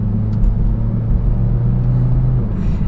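A 2019 Hyundai Veloster accelerates hard, heard from inside the cabin as a loud, steady low engine drone and road rumble that hold throughout.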